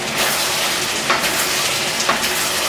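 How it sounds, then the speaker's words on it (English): Pork stir-frying in a wok over the highest heat for Cantonese sweet and sour pork, giving a steady loud sizzle and crackle with a few brief tossing clatters, close by and with no voices. "Toss it in and keep on stir frying it."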